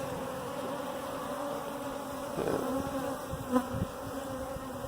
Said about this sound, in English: the bees are just anxious to get out and forage